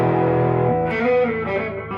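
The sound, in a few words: guitar through Fender tube amp, distortion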